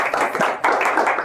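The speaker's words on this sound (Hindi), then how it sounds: "आपकी भरपूर तालियों में जनाब अमानुल्लाह खान साहब।" An audience at a formal podium event claps for a speaker being introduced, a short burst of close, uneven hand claps with a brief dip midway.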